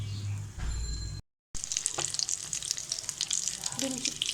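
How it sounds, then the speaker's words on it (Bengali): Steady crackling sizzle of chicken-and-egg chops deep-frying in hot oil over high heat, loud and close, with a brief silent gap early on. "এখন ডিমের চপগুলোকে আমি দিয়ে দেবো।"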